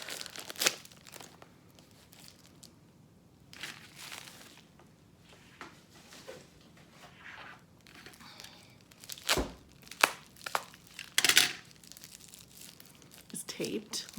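A heavily taped parcel from an eBay and Etsy haul is worked open indoors, with scattered crinkling plastic, tearing tape and occasional thunks in irregular bursts under intermittent talking.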